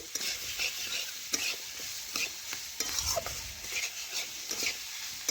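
Jackfruit seed curry is stirred and fried with spices in a pan, a continuous sizzle broken by repeated scraping strokes of a spoon, close and moderately loud.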